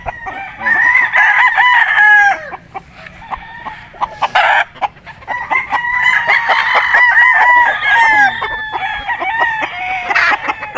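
An imported Perry hatch gamecock rooster crows loudly and close, several drawn-out calls mixed with sharp clucks and nearby fowl noises across about ten seconds.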